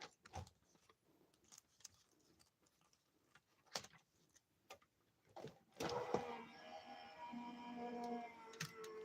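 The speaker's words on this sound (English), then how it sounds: "let's run that through the die cut machine" A die cut machine runs as a steady mechanical whirring hum, taking over after scattered clicks and handling taps and holding at moderate loudness to the end.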